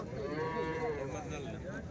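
An Ongole cow at a weekly cattle market in Punganur moos in one long, drawn-out low call, close and loud over faint background noise.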